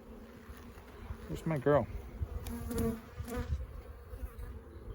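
Honey bees buzz in a steady, close drone while an over-wintered hive is opened for inspection, with a person speaking briefly over the hum in the middle.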